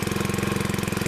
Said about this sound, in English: Cold start of the Craftsman Riding Lawnmower.